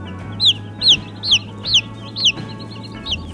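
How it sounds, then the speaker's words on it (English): Baby chicks on a farm chirp in a series of about six sharp, high peeps spaced roughly half a second apart, close and clear over a low steady hum. "Just cute little baby chicks."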